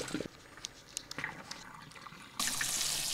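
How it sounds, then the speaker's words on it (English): Water splashes and trickles into a sink as soba noodles are drained, then a tap gushes steadily at full flow, close by. "Just like pasta, you'll drain your soba noodles."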